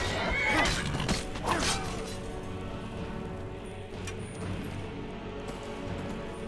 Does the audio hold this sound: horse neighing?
yes